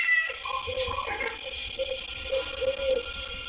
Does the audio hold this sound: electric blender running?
no